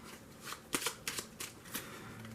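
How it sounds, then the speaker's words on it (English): A discard pile of playing cards for the Dungeon Flee tabletop game is shuffled by hand, giving a series of quick riffling bursts about every quarter second, close and fairly soft with no talking. "real quickly, we'll shuffle up our discard,"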